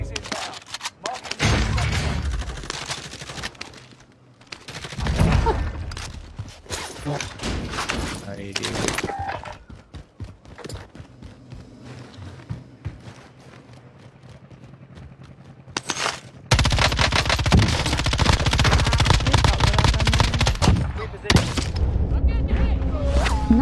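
Bursts of video game gunfire crack and boom in rapid volleys and scattered single shots, loud and close, with players talking over the action at times.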